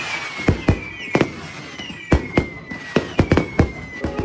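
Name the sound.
fireworks going off, audiobook sound effect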